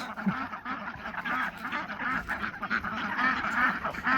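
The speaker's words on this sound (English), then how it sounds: "Coming through, ducks." Ducks quacking steadily, a dense chorus of nasal calls close by, continuing without pause throughout.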